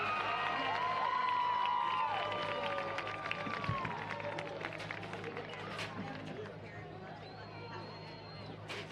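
A crowd at a high school football game applauds and cheers for the school marching bands, heard as a distant, broad wash of clapping and cheering mixed with crowd noise and whistle-like tones.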